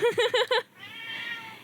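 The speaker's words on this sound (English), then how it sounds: "Yes, Minky, why? That's my cat." Pet cat Minky gives four short, close meows in a quick run, then falls quiet, leaving a faint hiss and a thin high hum.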